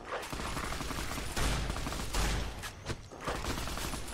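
A heavy machine gun in the Fallout wasteland fires long sustained bursts, a dense rattling roar of rapid shots that swells and dips over the whole stretch with no speech.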